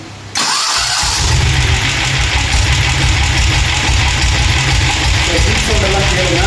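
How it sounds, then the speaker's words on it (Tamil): A Royal Enfield diesel Bullet motorcycle cranks on its self-starter and catches at once, then settles into a loud, steady, close idle with no talk over it. "ஃபர்ஸ்ட் வந்து நான் வண்டியை வந்து ஸ்டார்ட் பண்ணி காட்டுறேன் பாருங்க செல்ஃப் ஸ்டாப் போட்டு காட்டுறேன்"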